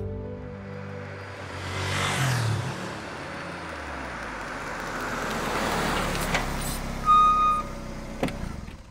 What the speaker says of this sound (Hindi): सामने देखो, बहुत ट्रैफिक है